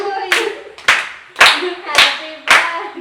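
Family members clap together at a birthday party, about five strong, evenly spaced claps close by.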